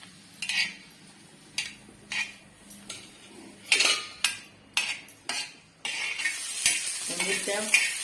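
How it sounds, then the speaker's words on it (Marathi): Five or six green chillies roasting in oil on an iron tawa, with spaced metal scrapes and clinks of a spatula stirring, then a louder continuous sizzle building at the end, up close. "मिरच्या चांगल्या भाजून घ्यायच्या आहेत।"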